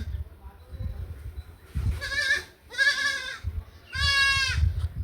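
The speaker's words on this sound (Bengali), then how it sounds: "ছাগল সিল্লা বিল্লা করতেছে" A goat bleats three times in wavering, nasal calls, fairly close, with low rustling and background noise between the bleats.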